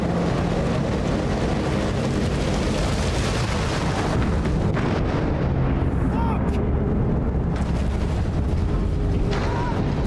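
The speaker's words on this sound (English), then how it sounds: "She goes to cause the very explosion Brody warned you about and gets owned" A deep, rumbling explosion roars through an oil rig in the video game Still Wakes the Deep, a loud, sustained low boom under a narrating voice that thins out toward the end.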